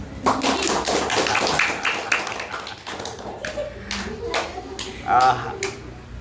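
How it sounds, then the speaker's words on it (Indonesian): Students clapping hands after a group presentation at an Islamic boarding school, a loose scattering of individual claps with irregular rhythm, mixed with young voices talking nearby. "Boleh tepuk tangan?"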